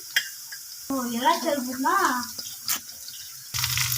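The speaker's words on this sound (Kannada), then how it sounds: "ಸೊ ಈಗ ಇದಕ್ಕೆ ಇಲ್ಲಿ ಈರುಳ್ಳಿನ ಸೇರಿಸ್ಕೊತಾ ಇದ್ದೀನಿ. ಇದನ್ನು ಚೆನ್ನಾಗಿ ಹಸಿ ವಾಸನೆ ಹೋಗೋ ತನಕ ಹುರ್ಕೊಳ್ಬೇಕು" Chopped onions with green chilies sizzle in a pan as a steady, fairly quiet frying hiss, with a voice talking over it for part of the time and a louder burst of sizzling at the end.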